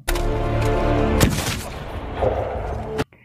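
A gunshot from a Pirates of the Caribbean film scene, a loud sharp blast with a booming tail, set over a swelling orchestral score.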